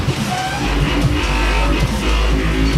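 Loud dubstep music with heavy sub-bass and a driving beat, dense and continuous from start to finish with no voice over it.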